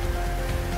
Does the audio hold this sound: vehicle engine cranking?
no